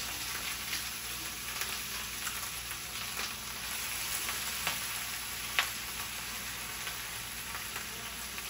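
Onions and cabbage fry in a pan with a steady, soft sizzle and scattered small pops and crackles throughout, close and fairly quiet, with no voices.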